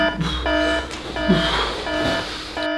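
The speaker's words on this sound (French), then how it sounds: "Alarme!" A repeating electronic alarm tone sounds in short pulses, roughly four bursts in under three seconds, moderately loud against a busy, noisy background.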